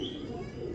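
A Sialkoti pigeon gives a short, soft coo close by, over a faint background hum.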